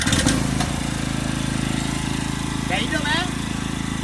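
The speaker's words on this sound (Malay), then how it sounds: "So, startkan dia enjin." A quiet portable generator starts and settles into a low, steady idle hum, close by, while someone speaks briefly over it.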